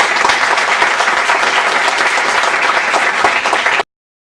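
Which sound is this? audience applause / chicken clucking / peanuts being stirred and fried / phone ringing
audience applause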